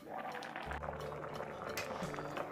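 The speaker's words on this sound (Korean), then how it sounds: "이제 짜장이 끓으면은 한번 저어주시고 불은 중약불로 조절해가면서 끓여주세요" Jjajang black bean sauce bubbles in a pot over medium-low heat, giving a steady, close simmering hiss with a low rumble that holds evenly throughout.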